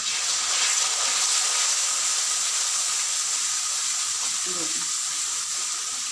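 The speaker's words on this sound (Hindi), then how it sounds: "अब थोड़ा सा हम इसमें पानी डालेंगे कि मसाले इसके जले ना।" Turmeric, red chili and coriander powder sizzle in a pan as a splash of water is added while cooking karela chana dal, giving a steady hiss and frying crackle with a brief bubbling burst near the end.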